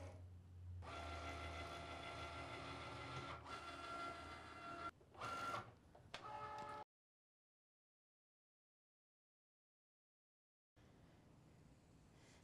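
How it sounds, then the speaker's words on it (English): A Cricut Element cutting machine slices premium vinyl with whirring, printer-like motor runs and short bursts, then falls silent before a quieter mechanical stretch resumes. "we're just going to go ahead and push it through and have our Cricut cut it"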